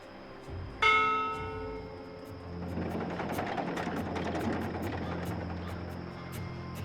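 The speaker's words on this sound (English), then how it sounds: "this is a ship's bell. They use this to signal the crew when a load of cargo's ready to be hoisted up." A ship's bell struck once aboard a cloud ship in the video game Dreamfall Chapters, a sharp metallic ring that fades over a steady rumbling engine-like drone and wind.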